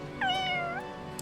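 A cat meows once in the Fire Emblem Engage video game, a single clear rising-then-falling meow lasting about half a second over soft background game music.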